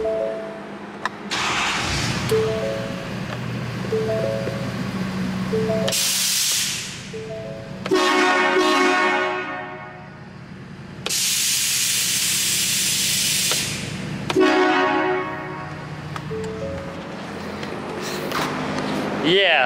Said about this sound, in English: those horns are pretty darn loud, and they are fun to they're fun to honk at whenever passing some buddies or random people on the highway